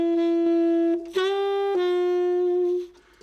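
Bebop recording: a bright sustained trumpet line with rich harmonics and a few note changes, loud and close, fading out at the end.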